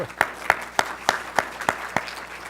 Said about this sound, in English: Jane, you do deserve an applause